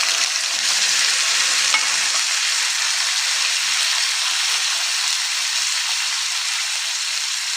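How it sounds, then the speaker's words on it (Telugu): Spiny gourd frying with onions in a pan over medium flame, a loud continuous oil sizzle close by, with faint scraping from stirring near the start. "మీడియం ఫ్లేమ్ మీద పెట్టి గోకరకాయ మంచిగా ఫ్రై చేసుకోవాలి"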